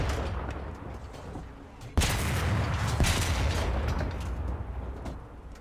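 Tank machine guns firing in War Thunder: a dense, continuous rattle of gunfire with a sharper burst partway through, loud and close amid battle noise, with no talking.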